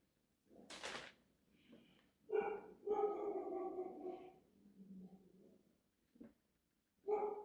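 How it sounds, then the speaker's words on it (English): Dogs barking indoors in the background, a few separated barks and yelps of moderate loudness with quiet pauses between them. "Guess the dogs are seeing some cats."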